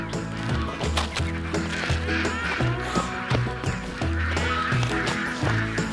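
A crowd of meat ducks, roughly five pounds each, quacks loudly and close up in a pen, the overlapping calls continuing without a break.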